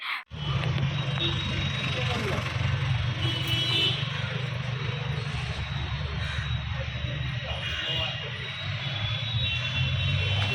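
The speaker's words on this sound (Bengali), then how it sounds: "রাস্তার এত আওয়াজ যার কারণে আমাকে ভয়েসটা কিন্তু অফ করতে হয়েছে" Heavy road traffic roars continuously on a busy street near a bus stop, a dense, loud, unbroken rumble of passing engines that stays steady from start to finish.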